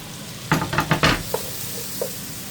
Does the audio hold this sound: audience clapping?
no